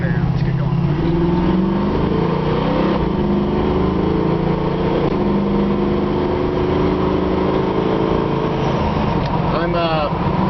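A 1970 Chevrolet Camaro SS with a center console shifter, driven in drive, gives a steady engine drone that rises and falls with the throttle, with someone talking over it inside the car.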